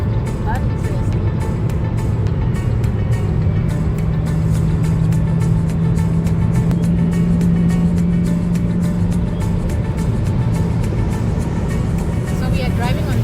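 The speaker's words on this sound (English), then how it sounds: "So we are driving on the German Autobahn" A car cruising on the German Autobahn near Munich, where the limit is 120, gives a steady, loud cabin rumble of road and engine noise throughout, with a voice talking over it.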